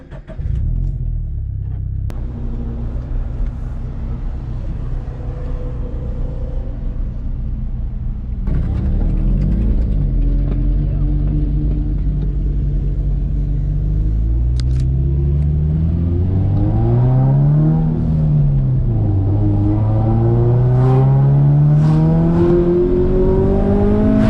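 A turbocharged Scion FRS, running after an oil line check, idles with a steady low rumble and then pulls away, its engine rising and falling in pitch as it accelerates and shifts, loud and close throughout.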